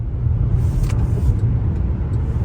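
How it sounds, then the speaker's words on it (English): A 2020 Cadillac XT4 SUV with 237 horsepower on the move, its engine and road noise forming a steady low rumble heard from inside the cabin, without any talk. "As I drive this 2020 Cadillac XT4"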